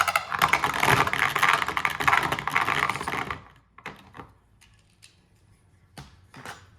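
Beyblade Burst spinning tops, among them Shield Kerbeus, battle in a stadium with a loud, dense rattle of clashing and scraping for about three seconds, then fall to quiet with a few sharp ticks and knocks as they slow.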